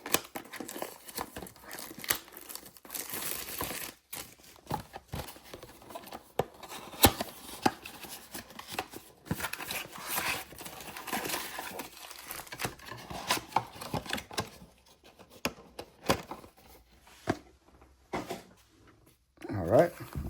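Trading card packs and blaster boxes being torn open, with repeated crinkling, ripping and rustling of foil wrappers close by, mixed with intermittent talking.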